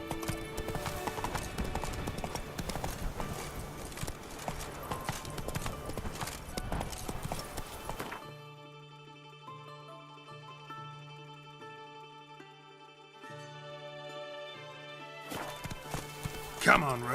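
Horse hooves clip-clop steadily in The Witcher 3 video game, a rapid, even gait under a busy game soundscape that later drops to quieter tones before the hoofbeats return.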